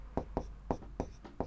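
Chalk or marker strokes on a board during a maths lesson on triangles, five or six quick scratchy marks in an uneven rhythm, close and clear with no talking.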